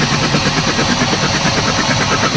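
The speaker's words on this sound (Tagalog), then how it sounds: "Engine crank." A Mazda BT50 2.2 diesel engine runs steadily at idle with a dense, continuous knocking rumble, loud and close throughout.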